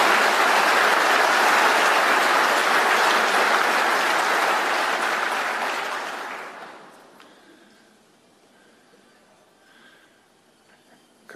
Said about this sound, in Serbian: A sve samo drugi ljudi iz gradskog odbora i okolo tapšu.